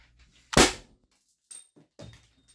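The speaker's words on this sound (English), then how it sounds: "We're gassed up here, and I'm gonna shoot that dart." An Umarex HDP 50 CO2 pistol fires a dart with a single sharp, loud report, followed by a couple of faint, brief knocks and rustles in an otherwise quiet space.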